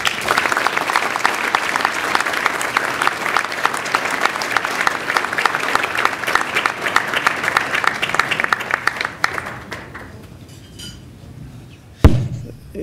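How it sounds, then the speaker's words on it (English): Sustained applause from a seated crowd at a financial services award dinner, dense clapping that swells and holds, then thins out and tapers off, with a single sharp knock near the end. "If we could have another round of applause"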